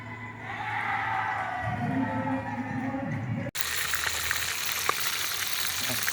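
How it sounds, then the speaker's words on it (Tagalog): Steady crackling sizzle of catfish frying in hot oil in a pan, close up, with brief stirring and a faint scrape partway through. "Ito na lang yung lutuin kong prito"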